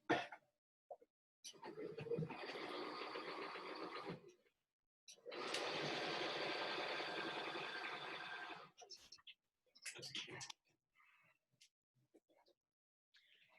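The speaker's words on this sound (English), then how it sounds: "I'm just going to sew along that edge" A sewing machine stitching along the edge of a crazy patchwork block, running in two sustained bursts of steady whirring, separated and followed by short pauses, coughs and small handling sounds.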